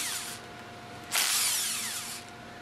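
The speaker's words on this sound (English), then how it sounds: "Use the impact wrench with a 5mm hex attached to loosen the 4 bolts from the top cover." Impact wrench fitted with a 5mm hex loosening the four top-cover bolts on an MK MKSR piston pump: a loud, close power-tool whir that cuts off, then a second burst of about a second.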